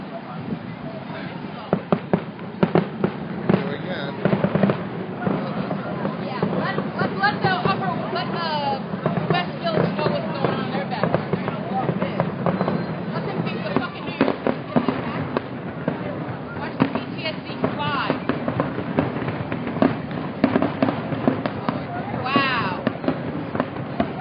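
Fireworks bursting across a river at a public show, with sharp repeated booms and crackles set against a steady crowd murmur and nearby people talking throughout.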